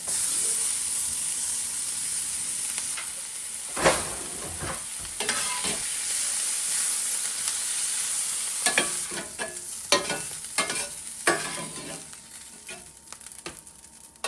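Egg frying in a little oil in a cast iron pan, giving a steady sizzle and hiss with scattered louder pops and crackles from stirring or spattering, close up, no talking.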